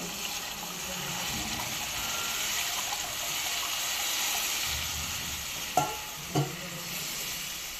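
Water poured into a pan of frying masala for a rohu fish curry with tomato and potato, a broad steady hiss of sizzling liquid with a couple of sharp spoon knocks near the end, close and fairly quiet.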